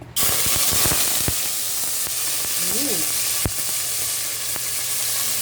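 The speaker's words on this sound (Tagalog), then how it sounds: "Maglagay na tayo ng mantika. Lagay na natin ang ating pork." Pork dropped into hot oil in a pan sizzles loudly and continuously, with close, steady frying hiss and a few sharp clicks and knocks of utensils.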